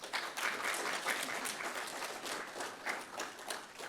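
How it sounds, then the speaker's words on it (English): Sustained applause from an audience of new medical students at a White Coat Ceremony, dense steady clapping throughout with no talk. "You should give yourselves a round of applause."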